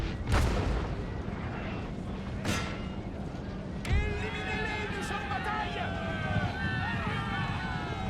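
Cannon and artillery fire in a Napoleon: Total War battle, with several deep booms at intervals over a constant rumble of battlefield noise, followed by whistling, warbling tones; no talking.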